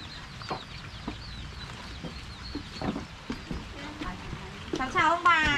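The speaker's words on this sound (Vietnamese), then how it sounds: "Ngan gà nhiều." Chickens and Muscovy ducks cluck and call around a rural Sapa home damaged by hail, scattered close calls over steady outdoor background noise, with a burst of louder calls near the end.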